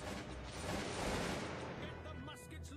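Dense musket volleys fired by ranks of infantry in the battle game Cossacks 2, a continuous rolling crackle of massed shots, faint and distant.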